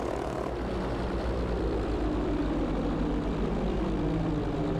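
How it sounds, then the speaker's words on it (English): An airplane engine in the video game Battlefield V, a loud propeller drone flying overhead that holds steady and builds slightly, a continuous roar with no voices. "We have an airplane coming towards you."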